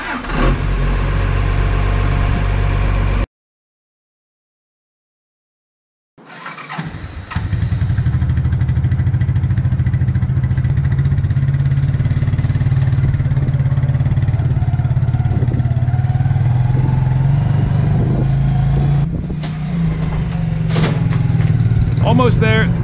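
Suzuki King Quad ATV engine idling and revving as it drives onto a trailer, loud and close with a steady mid-range drone after a short silent gap, the rider talking over it.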